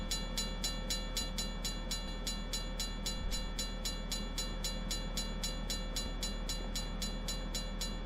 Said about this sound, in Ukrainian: Там Чметри їде локомотив. Дуже повільно.